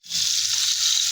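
Fish frying in hot oil, a steady, close, bright sizzle that starts abruptly and holds evenly for about a second, with no talking.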